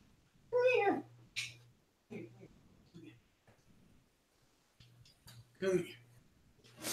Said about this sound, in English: My cat's howling.